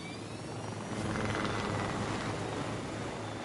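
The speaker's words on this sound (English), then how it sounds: "Now here, a helicopter. There's a helicopter right there," A helicopter in a video game flies close by, its steady rotor drone and engine whine loud and continuous throughout, swelling slightly in the middle.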